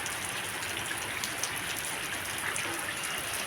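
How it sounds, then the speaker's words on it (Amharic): Steady rain falls outdoors, a dense continuous hiss of drops on surfaces that holds an even, moderate level with no pauses and no voices. "ዝናቡ ዘነበ"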